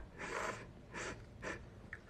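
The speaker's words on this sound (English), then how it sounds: "me sniffling." A woman sniffles close to the microphone in a few short nasal bursts with pauses between them, the last one quicker, and no speech.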